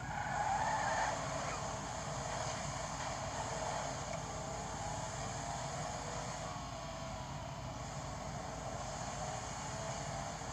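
A car in the video game Grand Theft Auto V drives with a steady engine drone and long stretches of tire skidding and squeal, moderately faint and continuous, without clear talk.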